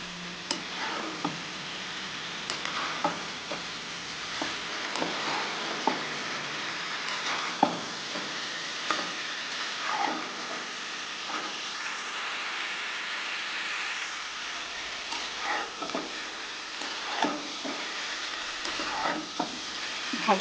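Onions stir-frying in a pan for a jackfruit curry, a continuous bright sizzle with frequent spatula scrapes and ticks, close and steady throughout with no talking.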